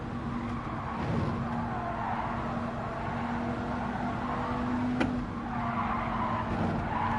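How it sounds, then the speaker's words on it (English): Race car tires skidding and squealing during a Gran Turismo 7 race, a sustained screech with a steady tonal whine over continuous engine drone, rising briefly around a sharp accent mid-way. "I heard all that skidding."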